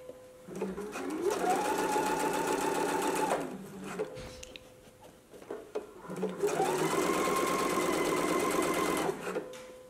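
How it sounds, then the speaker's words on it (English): A sewing machine stitches zipper tape for a fly front zipper in two long bursts of rapid, steady stitching, close up, with a short pause and faint handling noises between them. "Let's go to the sewing machine and do those 2 permanent stitches now."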